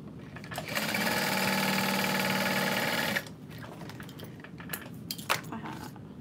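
A sewing machine stitches the bottom seam of a waterproof canvas rose handbag in one steady, fast whirring run of about two and a half seconds, followed by quiet handling noises.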